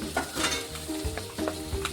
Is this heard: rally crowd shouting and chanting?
no